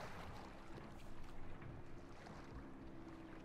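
A boat in Call of Duty Modern Warfare II churns through water with a steady wash and low motor hum, wind-like noise swirling over it, fairly faint and continuous.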